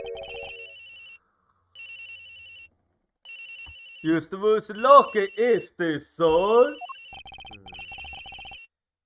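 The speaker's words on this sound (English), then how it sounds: "This has gotta be the victim's cell phone." A cell phone rings with a repeating electronic melody in the Ace Attorney Investigations video game, its tones sounding in short bursts before and under a stretch of clear in-game speech.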